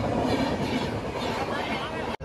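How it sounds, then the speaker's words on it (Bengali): Rajdhani Express passenger train rushing past close by at speed near a fair, a dense continuous roar with rapid rhythmic wheel clatter, ending in a sudden brief break. "আমাদের রাজধানী এক্সপ্রেস আসছে, দেখি স্পিডটা কিরকম।"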